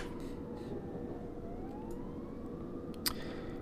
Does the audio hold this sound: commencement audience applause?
no